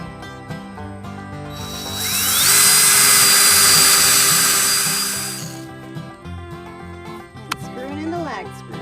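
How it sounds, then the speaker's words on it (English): A power drill bores pilot holes into a wooden post for lag screws, giving one loud whine of about three seconds that swells and fades under background music, then a short tool rattle and some brief speech. "Pre-drilling our holes."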